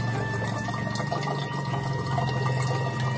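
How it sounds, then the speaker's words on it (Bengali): Water pours and splashes steadily during monsoon-season bathing at a river ghat, a continuous, close rushing wash with no voices. "জল পড়বে, জল পড়বে, জল পড়বে"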